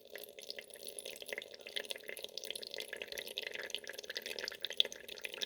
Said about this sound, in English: You hear the water rattling the other radiators.